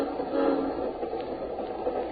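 A train runs on rails as a sound effect in a radio drama, giving a steady, moderately loud rumble with a low rolling texture and no talk over it.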